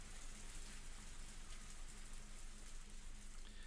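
A steady downpour of rain in the video game Higurashi When They Cry Hou makes a dense, even hiss that continues without a break, fairly faint, with a soft repeating low tone beneath it.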